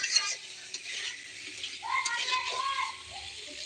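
Quiet frying and stirring in a pan, a soft sizzle with brief scraping and clinking of the utensil, with faint voices in the background.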